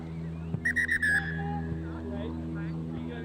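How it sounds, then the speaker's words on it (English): Several short shrill blasts of a referee's whistle mark half-time at an international rugby sevens match, followed by a longer tone, heard over steady crowd and broadcast background noise. "As the half-time whistle goes"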